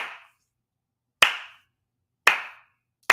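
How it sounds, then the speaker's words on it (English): Three slow, deliberate hand claps spaced more than a second apart, each sharp and close with a short decay into silence, given as a mock salute. "slow clap."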